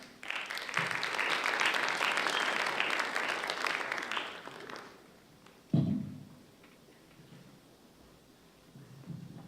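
Audience applause for competition finalists, a broad burst of many hands clapping that fades out after about five seconds, followed by a soft thump and quiet room noise.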